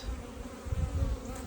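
Honeybees buzz steadily over frames inside a polystyrene hive, a close, low droning hum that swells slightly midway and carries on throughout with no voices.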